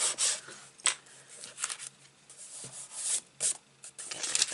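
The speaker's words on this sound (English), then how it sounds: "I'll just give that a rub" A finger rubs down a stuck paper piece on a handmade card, giving soft, close dry scuffing strokes in irregular bursts with quiet gaps between them and no voices.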